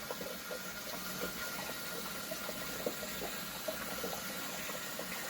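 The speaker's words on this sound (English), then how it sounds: "I was thinking that the water would come out at a greater rate." Steady, continuous rush of water draining out of a tank into a bucket, with a faint hiss and occasional splashes, close and constant throughout.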